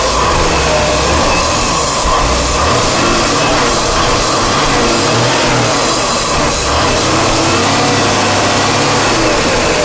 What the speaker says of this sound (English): Now the idea is to keep the engine running without stalling